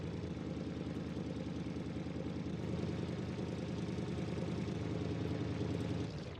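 Modded car engine in a video game, running steadily at a low idle with a constant droning hum for about six seconds before cutting off, no talk.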